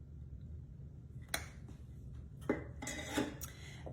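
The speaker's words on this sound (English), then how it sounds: "Make sure we get all that butter out of there." Room-temperature unsalted butter is scraped out of its container with a utensil, producing a few soft, brief scrapes and clicks scattered against quiet background, close and faint, with no talking.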